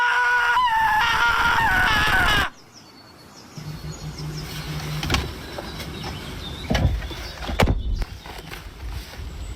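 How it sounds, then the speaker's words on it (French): A loud, sustained shrill scream attributed to an apple lasts about two seconds, then cuts off abruptly, followed by quieter rustling, a low hum and scattered knocks. "C'est cette pomme qui était en train de crier?"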